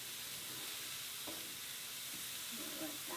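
Vegetables for a healthy Thanksgiving side dish cooking in a pan, a soft, steady sizzle and hiss with a couple of faint clinks, heard on its own.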